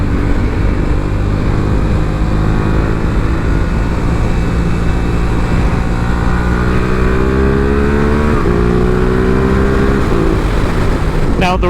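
Yamaha R7 motorcycle ridden on rural farmland back roads, a steady engine drone with rising and falling pitch as it shifts through gears, loud and continuous under wind noise, with a brief gear change near the end.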